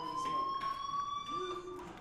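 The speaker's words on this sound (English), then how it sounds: "Do you hear that fire alarm?" Electronic fire alarm inside the video game Life is Strange, ringing as a continuous high pulsing tone for the whole moment, fairly loud, with brief speech-like sounds mixed in.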